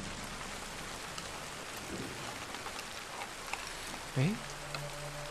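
Rain falling in the video game Little Nightmares, a steady, even hiss of downpour throughout, with a short voiced exclamation cutting in near the end.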